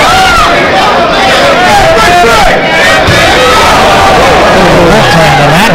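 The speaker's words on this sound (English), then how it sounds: "You can hear the moan from the crowd." A boxing crowd in a small arena lets out a loud, sustained moan after a heavy punch, a dense wash of many voices rising and falling close by.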